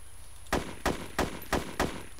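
Gunfire in the video game ArmA II, five sharp evenly spaced shots about a third of a second apart, loud and close, with no talk over them.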